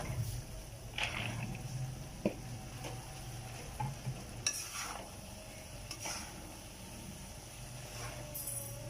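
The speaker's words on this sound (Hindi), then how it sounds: "कचनार को भी डाल के हमने 1-2 मिनट भूना" Kachnar buds sautéing in oil with mashed tomatoes make a soft, continuous sizzle, punctuated by intermittent light scrapes and taps of a spoon stirring the pan.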